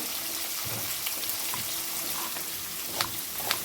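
Masala spices sizzle steadily in a hot pan while biryani is being prepared, a dense close-up frying hiss with a few soft stirring clicks near the end.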